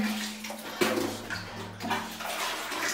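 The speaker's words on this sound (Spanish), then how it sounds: "vamos a empezar a rociar agua así alrededor, Y todo ese lodo se va a ir cayendo" Water spraying around the inside of a mud-caked cistern during cleaning, a steady close rushing hiss with a brief louder splash near the start of the second second, no talking.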